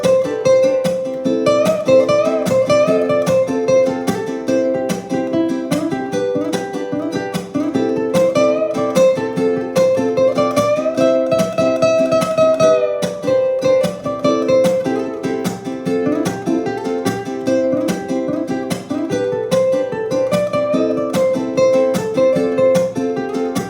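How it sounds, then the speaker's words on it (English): Ukulele lead line built from quick picked notes and string bends that slide up in pitch, played steadily and close up for the whole stretch with no talking. "we're gonna focus on bending and then just picking some notes in this pattern"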